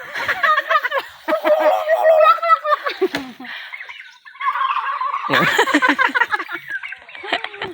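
A turkey gobbles repeatedly and loudly at close range, in rattling bursts separated by short pauses.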